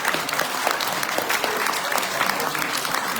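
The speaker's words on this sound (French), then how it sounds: "vous pouvez les applaudir très fort" A large audience at a mayor's New Year address claps steadily and enthusiastically, a dense, continuous wash of applause with no pauses.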